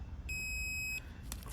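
A multimeter's continuity test gives a single steady electronic beep, high and clear, held for under a second over a faint background hum.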